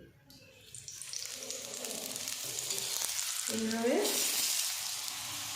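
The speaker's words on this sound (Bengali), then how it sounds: "এবার আমি দিয়ে দেব তেল।" Oil added to a griddle-toasted aloo paratha, pressed down to fry: a soft sizzle rises and grows into a bright, steady hiss, with a voice briefly speaking near the end.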